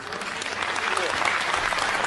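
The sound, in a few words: audience applause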